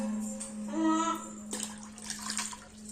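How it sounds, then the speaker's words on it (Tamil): Water is poured into pineapple juice at home, with ice in the glass: a short, soft stream whose tone rises as the glass fills, followed by faint splashing and clinks over a low background hum. "தண்ணி ஊற்றிக்கலாம்."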